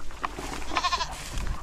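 Goat bleating on a farm where goats are being fed and given water, with a short nasal bleat near the start and a louder wavering bleat in the middle, over steady outdoor background noise.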